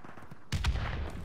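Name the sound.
grenade explosion and gunfire in a video game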